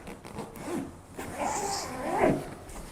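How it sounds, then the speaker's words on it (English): A front zipper on a personal bag is pulled open in a few quick close-up strokes, rasping briefly with short pauses between. "let's take a look at the front zipper"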